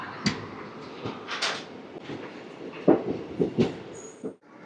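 A passenger train pulls into Narsaraopet railway station on the route to Guntur, with rumbling wheels, clanks and a few sharp knocks from the carriages, fairly near and steady throughout.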